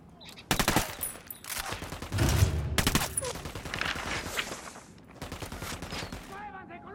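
Bursts of automatic gunfire in the video game Ghost Recon Wildlands, several loud rattling volleys separated by short gaps, close up and mixed with game shouts.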